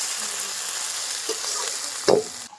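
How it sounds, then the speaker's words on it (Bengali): A spice paste of masala with ginger fries in a pan for a home-cooked goat curry, giving a steady soft sizzle throughout, interrupted by a couple of brief scraping stirs near the end. "মশলাটা আমি ভালোভাবে লাল লাল করে কষিয়ে নেব।"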